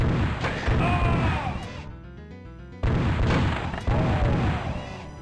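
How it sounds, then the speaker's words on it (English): Azrael's gloves in a classic Doom mod let off heavy double shotgun-style blasts, loud booming bursts repeating in clusters with short gaps between volleys, no voices. "And Azrael's gloves fire like the shotgun, but twice"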